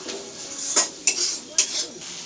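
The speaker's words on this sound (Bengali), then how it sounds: "জিরে গুঁড়ো, ধনে গুঁড়ো, এবার কষিয়ে নেব।" A metal spoon scrapes and clinks against a pan while cumin and coriander powder are stir-fried into a spice paste for paneer do pyaza, with a few sharp knocks over a low background hiss.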